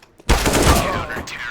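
Burst of rapid gunfire in a Counter-Strike match, sharp and loud, starting abruptly after a near-silent moment and sustaining briefly with a rattling, dense texture.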